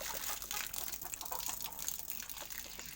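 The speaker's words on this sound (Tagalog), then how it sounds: "lagyan muna natin ang tubigan nila" Water is poured into a poultry waterer, a faint steady trickle and splash that runs throughout, with soft outdoor background noise.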